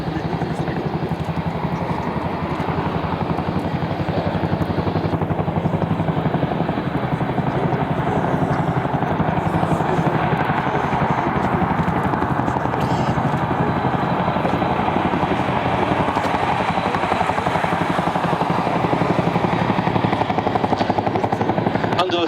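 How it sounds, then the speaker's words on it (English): Chinook twin-rotor helicopter flying with its rear ramp open, a steady loud throbbing rotor roar with turbine whine that holds constant throughout, heard close and continuous with no pauses. "Under the Chinook can be seen three large hooks for carrying underslung loads."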